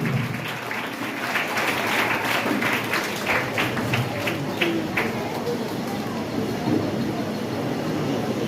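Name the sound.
audience applause for the guests coming on stage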